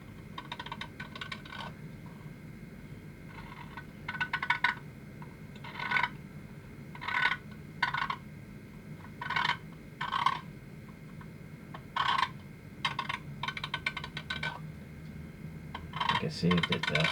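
A tungsten tri-edge panel line scriber drawn lightly along hard edge tape, giving short repeated scratchy strokes in bursts with pauses between them, close and fairly quiet, with soft talk underneath.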